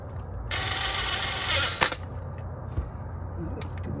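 Ratchet with a swivel turning the oil filter housing bolts on a 2008 Acura MDX 3.7, a close burst of rapid clicking followed by a sharp knock and a few faint clicks, with some background noise.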